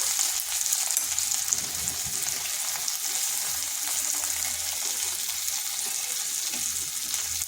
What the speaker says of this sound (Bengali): জিরাটাকে একটু ভেজে নিলাম।